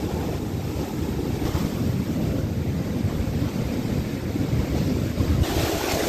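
Sea waves break on a beach at Cồn Bửng in Bến Tre, making a constant loud surf roar. Heavy wind buffets the microphone throughout and no one speaks.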